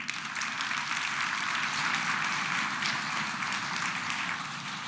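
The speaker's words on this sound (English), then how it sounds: "I think the applause says it all" An audience at the Ideas of India Summit 2023 applauds in a sustained, even wash of clapping that holds steady throughout.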